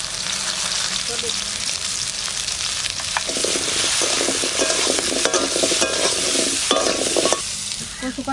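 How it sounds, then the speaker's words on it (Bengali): Taro pieces with salt and turmeric fry lightly in oil, giving a continuous bright sizzle with busy stirring and scraping in the pan. A voice briefly says one word. "আমি কচু কটা একটু হালকা ভেজে নেব"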